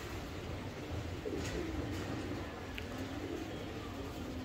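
Domestic pigeons, including a newly arrived male, coo softly amid a steady background hum, with low murmuring calls spread through a few seconds.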